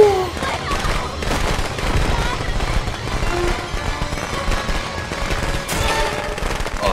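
Rapid, loud crackling bursts from firecrackers in Friday the 13th: The Game pop almost continuously while people talk over them.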